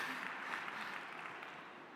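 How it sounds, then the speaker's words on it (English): Brief applause from an audience at a smart cities forum, a soft, dense patter of clapping that fades slightly over two seconds with no talk. "Why don't we have another round of applause for Thomas, Dima, and Hendrik as well."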